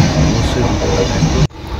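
Loud, continuous rumble of a moving train heading toward Kharagpur, steady throughout, with a sudden drop in noise near the end.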